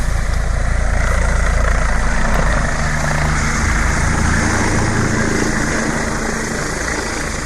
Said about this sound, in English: This is the auto rotation from BO 105.